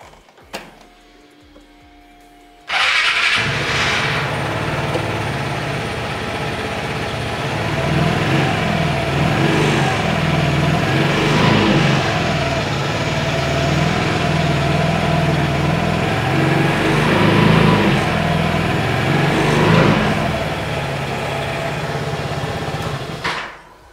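A Vespa GTS300 scooter with about 1,284 km on it fires up after a short quiet moment, then settles into a steady, slightly rattly single-cylinder idle that stays loud and close for the rest of the clip.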